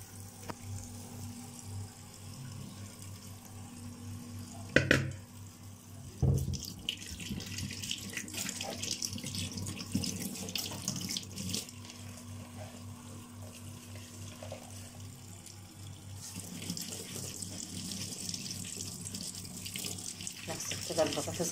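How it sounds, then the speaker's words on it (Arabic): Potatoes are rinsed under a running kitchen tap, a steady stream of water splashing into the sink with a few louder knocks and bursts as they are handled, and it grows busier toward the end. "ودلوقتي بقى هنغسل البطاطس، نغسلها كويس قوي"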